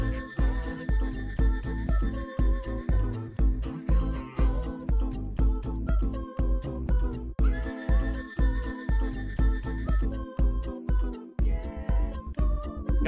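Looping video game beat in Incredibox with a steady percussion pulse and sustained tonal whistle and voice-like melodic layers repeating in bars, clear and prominent, ending with the whistle part dropped.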